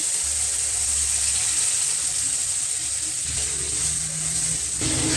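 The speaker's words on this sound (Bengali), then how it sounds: "এখন দেবো জল" Water is poured into a pan of spice masala fried in oil until the oil separates, giving a steady broad hiss and gush that runs loud and continuous for several seconds, with no talk over it.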